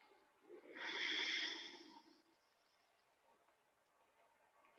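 A person draws in one deep, soft breath during an aikido breathing exercise, a faint airy rush lasting under two seconds in an otherwise quiet room.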